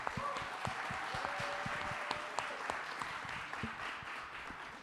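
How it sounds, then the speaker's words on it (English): Audience clapping at a startup pitching competition, a steady wash of applause with scattered sharper claps running throughout, moderately loud and fairly close, with faint murmuring voices mixed in underneath. "Big applause. Bravo!"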